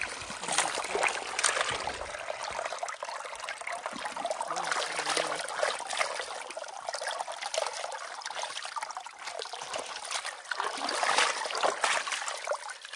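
Spring water trickling out of a culvert in the woods, a close, steady liquid babble with small splashy bursts and no voices.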